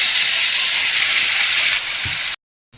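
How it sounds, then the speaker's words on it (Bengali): A ginger, garlic and dried chili paste goes into a hot pan, producing a loud, bright, hissing sizzle that eases slightly before cutting off abruptly near the end. "এখন আমি এর মধ্যে আদা রসুন শুকনো লঙ্কার পেস্টটা দিয়ে দেব।"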